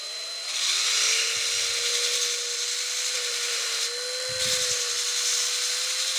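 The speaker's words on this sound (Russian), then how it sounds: "Но для этого нужен шуруповертик с насадочкой." A cordless screwdriver drill fitted with a sanding attachment whirs steadily at close range, working slowly in circles on a homemade mormyshing spinning rod blank, with a couple of brief low bumps from handling.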